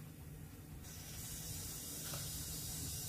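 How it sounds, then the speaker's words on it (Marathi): Mustard seeds sizzling in hot oil for a Kolhapuri misal tadka, a soft steady frying hiss that swells brighter partway through, faint and close. "मोहरी तडका बसला पाहिजे चांगला खमंग"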